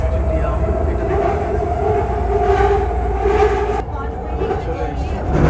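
A metro train in Canada runs through a tunnel with a steady rumbling roar and rail hum that keeps going throughout and dips briefly near the end.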